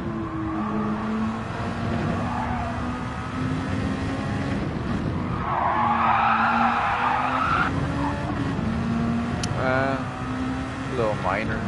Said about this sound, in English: Skid.